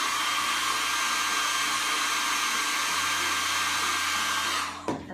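Hair dryer blowing steadily on a Jamberry nail wrap to heat it, a close, continuous whoosh that stops abruptly at the end.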